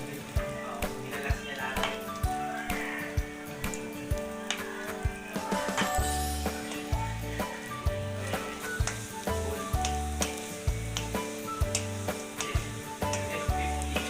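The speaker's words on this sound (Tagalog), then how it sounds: "Yung chicken balls naman ang isusunod natin. Pa-fry na rin natin siya." Chicken balls frying in oil give a soft, steady sizzle with small ticks and pops, close by, under rhythmic clatter and low background tones.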